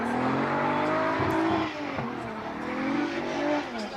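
A Nissan S15 Silvia drift car at Formula Drift Japan qualifying at Fuji International Speedway roars loudly under throttle. Its engine note rises and falls through the pass, and a hint of tire squeal comes through.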